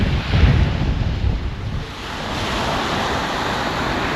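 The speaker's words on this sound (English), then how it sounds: "The ocean is super flat today." Gentle ocean surf on a white-sand Dominican beach on a calm day, a soft wash of waves with steady wind noise across the microphone and no voices.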